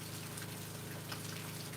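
Steady rain falling outdoors during an electrical storm, a continuous dense wash of drops at low level, faint and unbroken, no voices.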